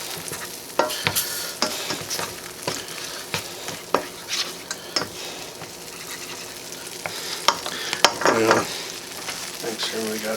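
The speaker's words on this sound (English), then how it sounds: "put in our butter and get it melted" Butter melting and sizzling in a pan for garlic butter green beans, a continuous close sizzle punctuated by frequent sharp pops and stirring knocks.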